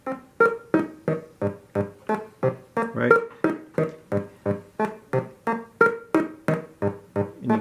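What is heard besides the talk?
modular synthesizer sequencer tone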